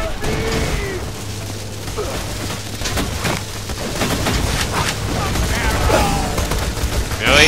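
Rapid dual-wielded gunfire from a pair of guns in Borderlands 2 on PC, a dense continuous stream of overlapping shots and impacts filling the whole stretch, with players chatting over it.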